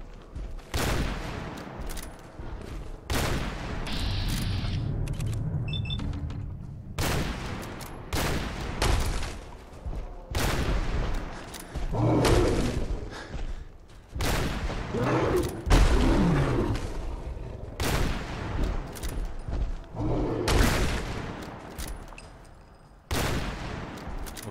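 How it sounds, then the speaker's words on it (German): Gunfire in the video game Fallout 4 comes as repeated loud bursts of shots, some in rapid volleys and some single heavy blasts, with rumbling game noise between them and someone talking at times. "Schuss"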